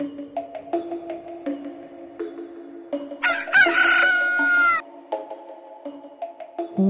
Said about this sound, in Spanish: Un gallo cantó en aquel momento.